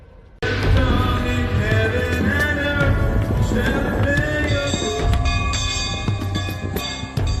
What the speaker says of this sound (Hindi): कोरोना की घंटी बजाने वाले ऐसे ही आस्था के 2 आविष्कार अब आपको दिखाते हैं।